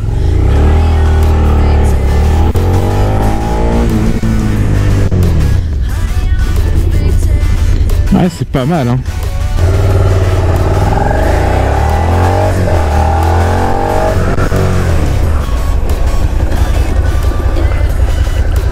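A 2018 Suzuki SV650 in A2 trim is ridden at full throttle, its engine droning loudly and rising in pitch against heavy wind, then briefly dropping away during a brake test. The rider talks throughout.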